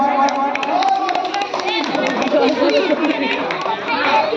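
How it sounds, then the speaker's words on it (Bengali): An audience at a neighbourhood annual sports prize-giving ceremony claps in a dense, uneven patter, mixed with lively chatter and crowd murmur throughout. "হাততালি দেবে সবাই"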